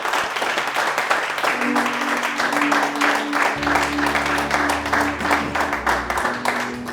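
A church congregation applauds and acclaims the Lord, a sustained, even wash of clapping with sustained organ or keyboard tones underneath and voices mixed in.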